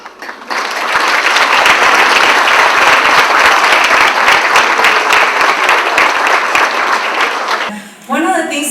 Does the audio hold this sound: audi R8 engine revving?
no